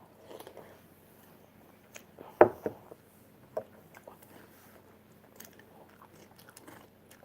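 Someone eats cereal, with scattered soft crunches and chewing sounds, one sharper bite standing out amid quiet pauses.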